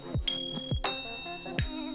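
Bright bicycle-style bell rings added as a sound effect in a phone video editing app, three struck dings with ringing decay, each following a low downward whoosh, clean and close with no voices.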